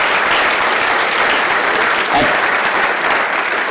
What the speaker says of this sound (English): I think they deserve a big clap for all that they have done